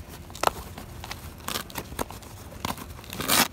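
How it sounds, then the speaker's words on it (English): Short ripping bursts of a Velcro strap on a bikepacking bag being pulled apart, several quick tears separated by pauses, close and fairly quiet. "Velcro."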